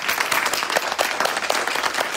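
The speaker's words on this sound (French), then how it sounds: "Voilà, on peut applaudir." A church congregation applauding, steady dense clapping from a crowd filling the whole moment at a lively, even level.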